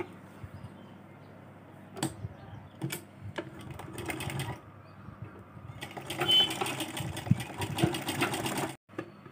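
Sewing machine stitching a child's silk skirt, heard in repeated bursts of rapid mechanical whirring with short pauses between runs, close and fairly loud, with no talking.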